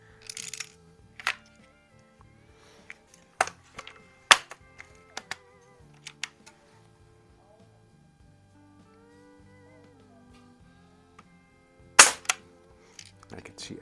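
Barra 1866 Jr. single-stroke youth pellet/BB rifle firing while plinking, several sharp isolated cracks spread over the span with quiet gaps, soft handling noises and faint talk between shots.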